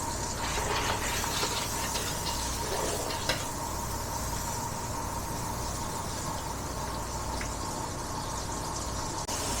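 Margarine melting into hot cooking oil in a pan: a soft, steady sizzle and hiss close by, continuous and fairly quiet, with a few faint clicks.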